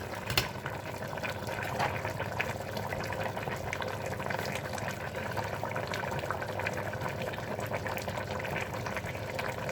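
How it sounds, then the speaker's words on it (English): A pot of turnip greens with dumplings at a low boil, giving steady soft bubbling and gurgling that stays even and continuous throughout, close and moderately quiet with no talk. "Now we're going to let this simmer, or not simmer, but a low boil for about 12 to 15 minutes."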